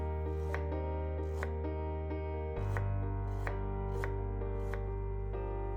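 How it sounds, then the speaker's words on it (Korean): A knife slices ginger thinly on a cutting board for drying, with about eight crisp, evenly spaced cuts over a steady low background hum. "생강은 얇게 썰어주세요."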